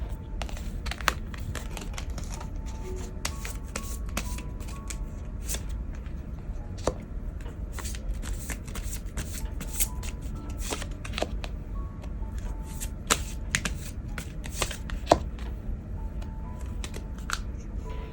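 Tarot cards being shuffled by hand in a steady run of soft papery riffles and flicks, close and clear with no talk over them, continuing for the whole stretch.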